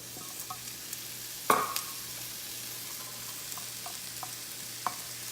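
Kale and other vegetables sizzle and crackle quietly in a hot skillet as they stir-fry, with one sharp clack of a utensil and a few small taps over the steady hiss.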